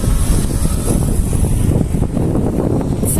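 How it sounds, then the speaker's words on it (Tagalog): Strong outdoor wind buffets the microphone in a loud, continuous low roar, gusting unevenly with no one talking. "Mahangin dito."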